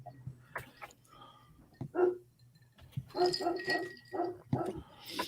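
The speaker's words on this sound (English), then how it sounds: "I hear a puppy dog." A puppy yips, barks and whimpers in short bursts at close range, with brief pauses between the cries and a low background hum underneath.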